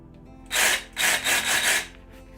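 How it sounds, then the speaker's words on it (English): A sawzall fitted with a rough wood-cutting blade cuts through a dry sunflower stalk in a loud, close buzzing burst followed by a longer rasping stretch with a few quick pulses before it stops. "I'm just using a sawzall"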